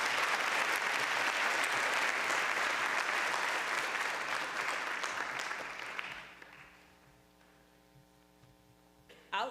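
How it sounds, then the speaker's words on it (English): An honors convocation audience gives a long, loud round of clapping for award-winning student athletes and teams, which fades after about six seconds into a quiet hum before a brief sound returns at the very end. "Please join me in congratulating our award-winning student athletes and teams with a round of applause"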